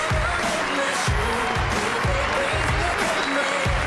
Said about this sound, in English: Ivan Tapia, everybody, give him a round of applause.